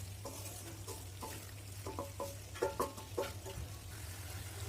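Mixed vegetables stirred in a frying pan with browned onion and garlic produce a series of quiet scraping and tapping strokes over a low, steady sizzle, irregular and close by.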